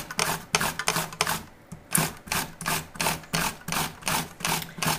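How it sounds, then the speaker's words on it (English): Fresh garden cucumbers grated by hand over a bowl, making a steady run of close, rhythmic rasping strokes, about two per second, with a brief pause partway through and no talking. "Just grate those in right over the top of the bowl."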